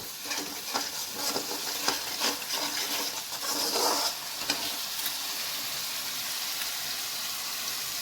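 A turmeric spice paste with a pinch of sugar sautés in a pan, a continuous close sizzle with rhythmic scraping stir strokes in the first half, then settling into steady frying, no speech.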